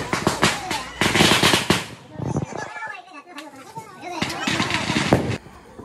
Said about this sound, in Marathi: पिशवी भरून फटाके आणल्यानं आणि एक एक फोडता